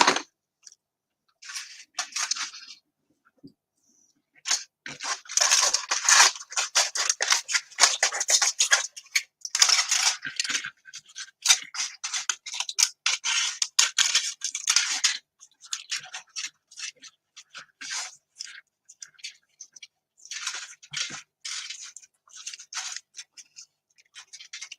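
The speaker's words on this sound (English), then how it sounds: "And I need scissors." Scissors snip and cut crisply during hat crafting, bursts of close, bright crunching and clicking strokes separated by quiet pauses, with no talk.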